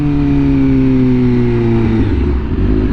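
A Honda Fireblade RR-R SP motorcycle with an SC Project exhaust accelerates hard on a top speed run, its engine note climbing loudly and rising in pitch before a sudden drop as it shifts gear.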